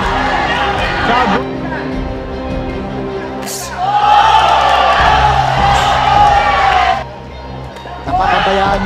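Spectators at a boxing match cheer and roar, the noise swelling in waves and dropping briefly before rising again, with a commentator talking over the crowd.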